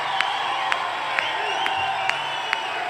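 At a J.D. Vance rally, one person claps slowly and evenly about six times, each clap sharp and distinct above a quiet, unenthusiastic crowd murmur.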